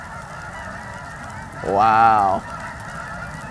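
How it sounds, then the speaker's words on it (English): A flock of geese honks loudly in a single burst of overlapping calls, rising out of a steady outdoor background and fading after about a second. "Can you hear those geese?"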